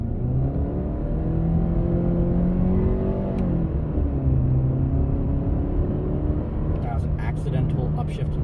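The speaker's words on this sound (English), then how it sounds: "put it in first gear, and go." A 2020 Subaru Crosstrek 2.0i Premium pulls away in first gear, its engine humming and rising steadily in pitch with a brief shift dip, heard from inside the cabin as a steady drone.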